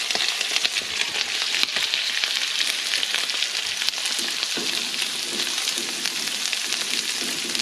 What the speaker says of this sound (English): let's throw these onions in